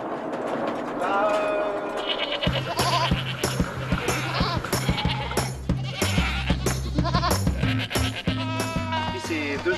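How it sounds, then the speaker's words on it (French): Goats at milking time bleat repeatedly, loud and close, with wavering calls overlapping one another, while music plays underneath and a person speaks at the start. "Je vais traire les chèvres"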